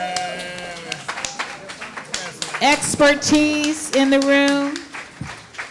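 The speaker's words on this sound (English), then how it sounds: "Let's stand and applaud." An audience at a values-voting event gives the panelists a standing ovation, with scattered clapping running beneath a speaker's amplified voice and cheers.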